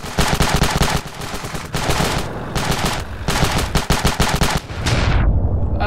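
Rapid bursts of automatic gunfire in the video game Ravenfield, loud and close, with short pauses between volleys before the firing cuts off.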